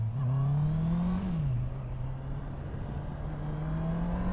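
A Honda CBR650R inline-four motorcycle engine revs under throttle, its steady pitch rising, dipping briefly, then holding a smooth droning note close by with no talking.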